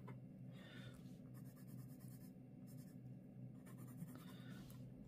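Soft, close pencil strokes scratch on wet paper in short bursts over a quiet hum, with brief pauses between marks.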